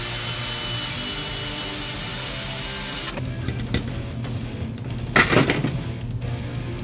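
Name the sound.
GM B-body power bench seat track motor running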